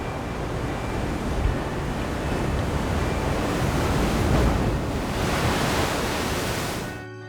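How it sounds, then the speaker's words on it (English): Ocean waves crash against the cliffs at Devil's Tear on Lembongan, a continuous loud roar of surf and spray that swells midway and then eases, with no voices. "On Lembongan, the cliffs at Devil's Tear throw salt water into the sky like"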